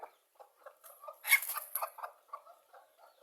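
Native Bangladeshi free-range hens and a rooster cluck in short, irregular bursts at close range, one louder squawking cluster in the middle, with quiet gaps between calls.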